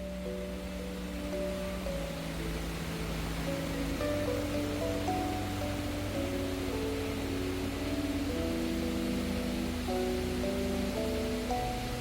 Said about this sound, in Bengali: এই যে এটাই হচ্ছে কিন্ড্রেম ওয়াটারফলসের ফার্স্ট ভিউ